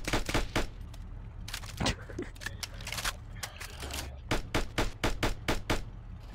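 Gunfire in a Rec Room PvP match cracks out in sharp, evenly spaced shots, with a clustered volley early and a steady run of single shots toward the end, fairly close and loud.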